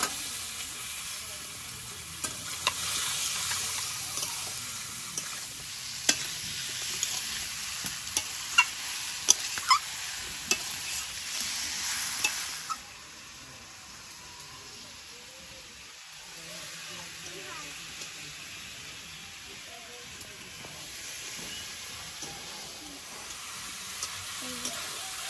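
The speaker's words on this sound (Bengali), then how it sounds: "চিকেনটা দিয়ে দেবো।" Chicken with salt, chili powder, onion, green chili and tomato sizzles and fries in a pan while a spoon stirs and scrapes in sharp clinks, the sizzle dropping to a quieter steady hiss partway through.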